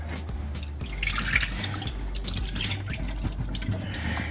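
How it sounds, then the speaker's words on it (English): Running tap water rinses out a pan after sautéing seafood for pasta, a steady splashing flow with drips and sloshing close by, with no talking. "Then we're gonna add water and rinse it out."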